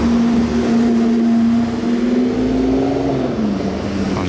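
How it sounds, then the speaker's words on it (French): A Lotus sports car with a titanium exhaust, heard on a street in Monaco, gives a loud, steady engine drone that rises slightly in pitch before easing off near the end. It is close and continuous, with no talking. "L'échappement en titane, là c'est quelque chose, c'est Lotus."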